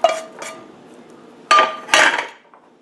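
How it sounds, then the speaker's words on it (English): Cooked skillet red potatoes tumble into a serving bowl, giving a few separate clinks and clatters of food and utensil against dishware, close and fairly loud with quiet gaps between. "So I'm going to take these potatoes and just put them into a serving bowl."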